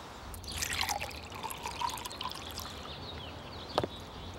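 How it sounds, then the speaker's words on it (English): Water poured into a bowl full of cotton balls, a soft trickling pour with a few drips, faint and close, ending in a single small splash. "Pour some water into a bowl full of cotton balls."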